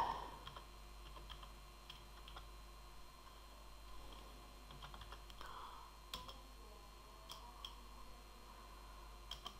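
Keys clatter on a computer keyboard as code is typed into an AutoHotkey script, a quiet, steady run of soft clicks with a few sharper taps, under a faint background hiss.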